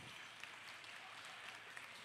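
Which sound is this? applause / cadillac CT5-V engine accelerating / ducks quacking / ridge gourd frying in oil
applause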